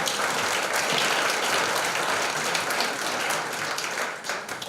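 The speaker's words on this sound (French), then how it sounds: "on les applaudit" Audience applause at a volunteering conference, a dense, steady wash of many hands clapping close by for the full length, thinning slightly at the end.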